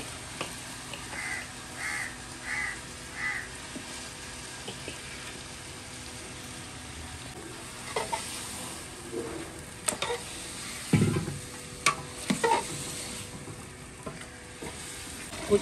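Chicken goes into a pan of cooked onion and garlic for a village biryani, followed by a soft, steady sizzle with occasional stirring clatter and scrapes, close by and without talk.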